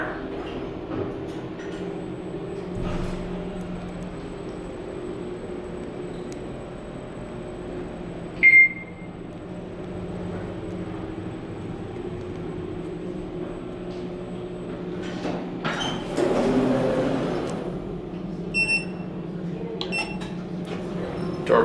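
A Schindler 3100 machine-room-less traction elevator runs with a steady low motor hum and cab rumble throughout, a single bright beep partway through and a swell of mechanical noise near the end, heard from inside the car.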